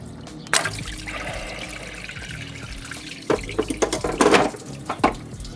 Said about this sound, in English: And you're gonna get more water come out.